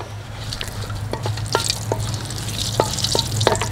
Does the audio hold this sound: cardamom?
yes